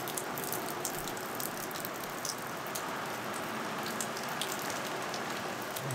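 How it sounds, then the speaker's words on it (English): Steady heavy rain pours down in a dense, even hiss, with scattered drips and patters standing out against the constant roar. "It's like, it's really raining."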